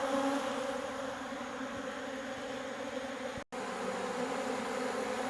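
Honey bees drone steadily around a bucket feeder outdoors in warm weather, a continuous close buzzing hum that drops out for a split second midway.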